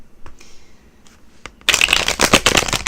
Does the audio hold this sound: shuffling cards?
yes